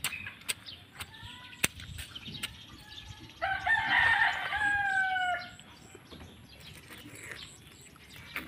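A rooster crows once, loud and fairly close, a drawn-out call lasting about two seconds. Softer clucks and chirps sit over quiet outdoor background before and after it.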